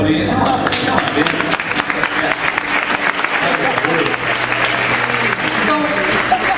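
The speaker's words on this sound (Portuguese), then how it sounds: "Vamos aplaudir o Paulinho" A church congregation applauds throughout, with sustained dense clapping from a large crowd, steady and loud, with a low murmur of voices beneath.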